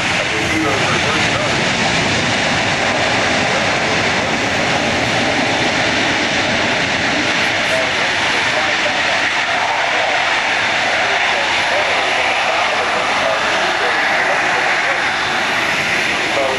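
A jet aircraft lands at an air show, its engines in reverse thrust with spoilers up and wheels braking, making a loud, steady broadband roar that holds for the whole stretch.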